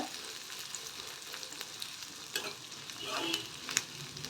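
Mixed sprouted beans frying in a pan, a soft, steady sizzle with occasional spoon stirring and scraping, fairly quiet and close with no talk.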